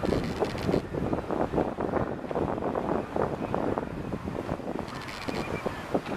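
Steady outdoor wind buffeting the microphone with a continuous wash of Pacific Ocean surf beneath on the US side of a bay, fairly loud and unbroken throughout.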